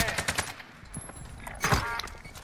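Gunfire in the battle royale game Call of Duty Warzone, Rebirth map: bursts of rapid shots, a cluster at the start and another near the end, with quieter game noise between and little talk.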